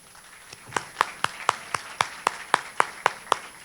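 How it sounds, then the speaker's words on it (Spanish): Slow, evenly spaced hand claps ring out one at a time at a poetry and photography talk, about a dozen crisp beats in a steady rhythm, moderately near against a quiet room. "Los aplausos para él, para mí no."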